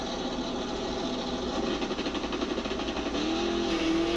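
Blasphemi race car launching off the start line, a steady buzzing engine drone with a rising rev tone toward the end, loud and continuous with no voices.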